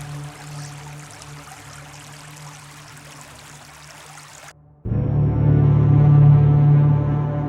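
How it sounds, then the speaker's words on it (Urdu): Clear blue water flows in a stream among ancient cave dwellings at Bela in Lasbela, Balochistan. A steady rushing wash is broken by a brief cut, then returns louder and fuller with a low hum beneath. "نیلا اور بہتا ہوا شفاف پانی۔"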